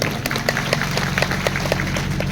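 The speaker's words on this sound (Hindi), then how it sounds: "उनके लिए भी आप जोरदार तालियां बजा दें।" Audience at an outdoor Hindi-language tribal gathering or rally claps in steady, moderately loud applause, many hands beating in a quick, uneven patter across the whole stretch.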